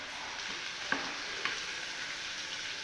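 Home-grown curry leaves fry quietly in a pan, giving a soft, even hiss broken by two light clicks of a spoon stirring.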